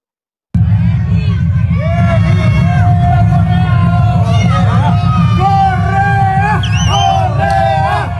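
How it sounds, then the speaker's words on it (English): A large political crowd in Ecuador chants loudly in unison, a dense roar of many voices with rhythmic shouted phrases rising over it throughout. "So this is the crowd chanting."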